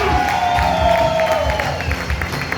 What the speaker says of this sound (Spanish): Dame un aplauso, iglesia